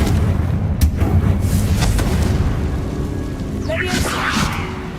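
The Confringo fire spell from Hogwarts Legacy lands with deep booming blasts and rumbling, crackling debris, fairly loud and near, with a sharp hit early and a fizzing burst later.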